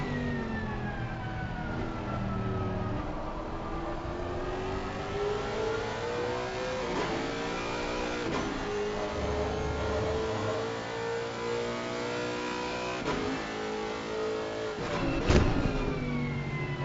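Porsche race cars lapping the Hungaroring circuit in a racing sim, engines revving loudly with rising and falling pitch through gear shifts, several cars passing close, a sustained roar with no talk.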